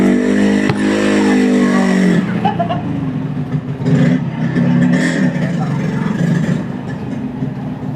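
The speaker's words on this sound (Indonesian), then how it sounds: "Jangan kenceng-kenceng lu bawa motor, suaranya luar biasa masuk ke sini." A motorcycle engine revs hard close by, a loud rising growl that drops into a rough, fluctuating roar and rumbling traffic noise.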